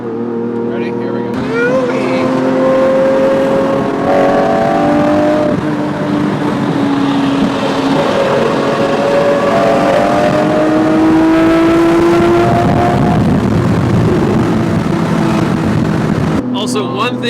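A Lamborghini engine revs hard through its gears, its loud exhaust rising in pitch with each pull and briefly dropping at the shifts, close and continuous, with people talking over it.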